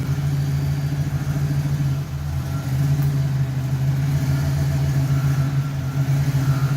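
A 1966 Pontiac Catalina wagon drives with a steady, fairly loud engine drone while its brakes are tested, the running note holding even throughout.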